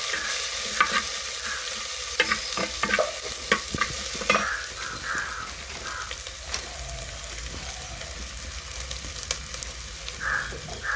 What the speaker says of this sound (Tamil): வெங்காயத்தை போட்டு வதக்கணும்.